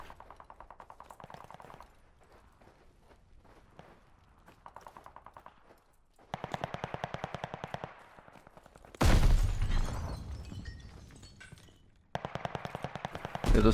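Rapid bursts of automatic gunfire in Call of Duty: Vanguard, some distant and muffled, others loud and close, with brief lulls between volleys.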